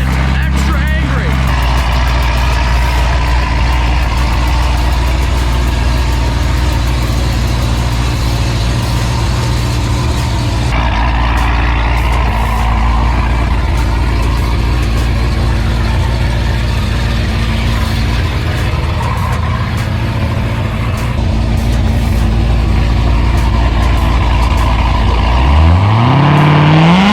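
A Volkswagen Corrado engine idles in a garage with a steady, loud, deep rumble that holds for most of the stretch, then climbs in a short rev near the end, with voices talking over it.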